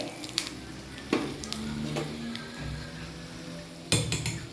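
Urad dal and a dried red chilli crackle and sizzle in hot oil for tempering, with a spoon stirring and clinking against the pan in a few sharp, close knocks.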